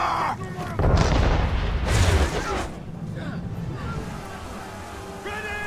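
Ship cannons fire in Assassin's Creed 3 naval combat, with several heavy booms and rumbling blasts in the opening seconds, then a rolling tail of battle noise while voices shout over it.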